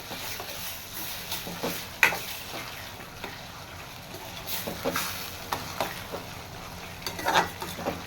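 Onion, tomato and ginger-garlic paste fry in a pan, a steady low sizzle broken by scattered spoon scrapes and small clicks against the metal, close and moderately loud with no talking.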